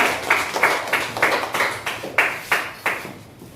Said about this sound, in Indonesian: Tepuk tangan untuk kawanmu yang kelompok 5